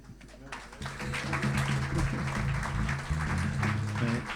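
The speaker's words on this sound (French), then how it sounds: "on applaudit encore un coup." A church congregation applauds during a Sunday worship service. The clapping is dense and steady, starting after a short quiet moment and continuing to the end at a moderate level.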